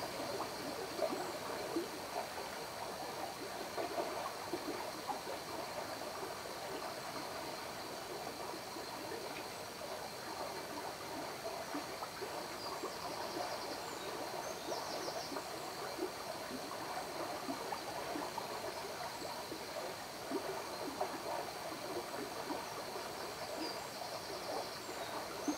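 The upper River Medway flows along a quiet summer stretch, a steady, soft wash of moving water that runs unbroken throughout with no voices.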